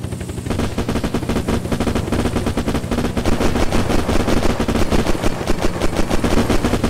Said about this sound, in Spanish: ¡Deja el gatillo apretado!